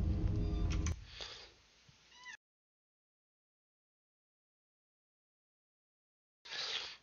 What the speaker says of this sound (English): My kitty cat's getting into something.